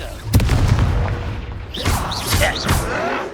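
Casting the Incendio fire spell in Hogwarts Legacy sets off a heavy booming burst, then a series of rushing, crackling whooshes, loud and close, in a game soundscape.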